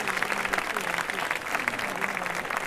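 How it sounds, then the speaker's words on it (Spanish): A crowd claps steadily and densely at a 1936 historical re-enactment performance in Grullos, the applause loud and continuous throughout, with no other sound standing out. "Un aplauso para Leonor."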